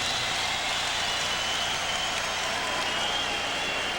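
A dense, steady wash of applause and crowd noise fills a basketball arena at the Rose Garden during a Knicks at Blazers NBA game. It is continuous and loud, with no distinct voices standing out.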